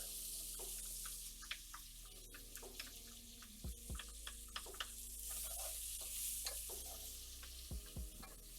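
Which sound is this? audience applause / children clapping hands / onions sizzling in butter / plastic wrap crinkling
onions sizzling in butter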